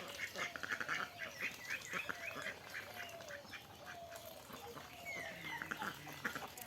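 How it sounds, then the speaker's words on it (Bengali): Ducks on a village homestead quack repeatedly outdoors, with bird-like calls rising and falling across the scene at moderate, steady loudness. "হাঁসগুলো সবের দিক দিয়ে আবার উঠে গেল।"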